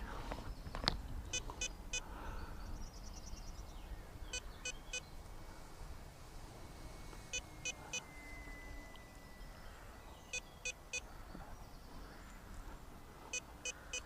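Short bursts of high electronic beeping from an RC radio transmitter repeat in clusters of three every couple of seconds, cutting sharply above a constant background hum.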